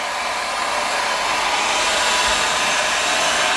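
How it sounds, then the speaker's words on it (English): Hair dryer blowing a woman's hair, a steady, loud, close airy roar that holds unchanged throughout, with no talk. "it's going to blow dry it sort of up, down and under a little bit."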